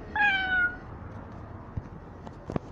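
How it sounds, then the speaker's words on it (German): A single short cat meow rings out at the start, followed by quiet with a few faint clicks. "Die Katze."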